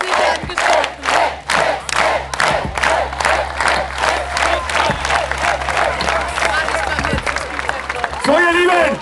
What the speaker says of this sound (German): Wir klatschen und hey,